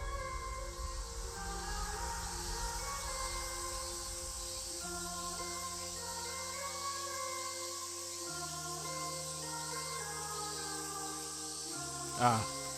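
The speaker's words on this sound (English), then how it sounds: "The cry of cicadas feels like a needle is trying to pierce a hole in my eardrum." Cicadas in a summer setting from the visual novel game Tsukihime Remake drone with a steady, high-pitched buzzing chorus over a soft held musical tone, ending in a brief sharp swell near the close.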